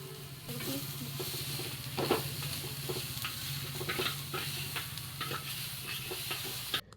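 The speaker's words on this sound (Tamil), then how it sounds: "ஸோ அது நல்லா வேகிற அளவு வந்து நம்ம வதக்கிக்கணும்." Vegetables sizzle and hiss in a hot pan while being stirred, a steady close frying sound broken by irregular scraping and clatter.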